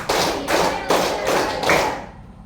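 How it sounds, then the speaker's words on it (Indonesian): A classroom of students claps in a rhythmic routine, loud unison bursts of clapping in about four even groups, then stopping abruptly. "Tepuk siap belajar."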